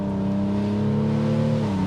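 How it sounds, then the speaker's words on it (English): The BMW X5 M50d's triple-turbo straight-six diesel gives a smooth, deep grumble that climbs slightly in pitch as it revs. It is a short, steady, close burst with no voices. "It sounds refined, and also when you're on it, it does sound quite muscly. It has got quite a good grumble to it."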